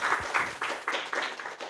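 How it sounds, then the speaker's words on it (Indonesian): Audience applause at an evening cultural discussion on Zapin dance, a brief burst of many hands clapping densely and steadily throughout, fairly close and with no talk over it. "Kita beri sekali lagi tepuk tangan yang luar biasa untuk narasumber kita"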